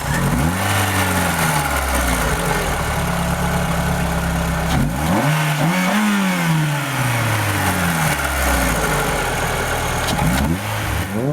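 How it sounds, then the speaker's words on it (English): A Renault Clio's 2-litre 16-valve engine revs repeatedly, rising and falling through several blips from a steady idle, loud and close. "So here is this tasty 2-litre 16-valve engine,"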